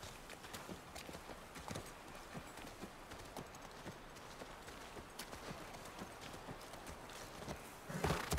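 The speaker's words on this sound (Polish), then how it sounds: "To nasz koń!" Horse hooves clip-clop steadily through a game scene in The Last of Us Part I, a continuous run of hoof falls over rustling ambience, growing louder near the end.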